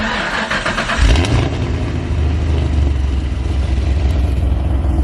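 A turbocharged 2JZ engine swapped into a first-generation Subaru BRZ, loud and close, climbing into a deep rev after about a second, then holding a throaty, pulsing idle with no talking.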